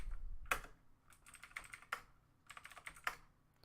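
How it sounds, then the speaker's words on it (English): Close, quiet typing on a computer keyboard comes in quick bursts of clicky keystrokes with short pauses between them. A few sharper, louder key hits stand out. "I need to work on my typing a little bit."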